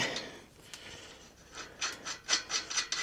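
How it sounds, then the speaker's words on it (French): An 18 mm wrench working a nut loose on a bicycle, heard as faint rubbing and rasping metal scrapes that grow into a few quicker, louder strokes near the end. "Il suffit de dévisser. Ici, c'est une clé de 18."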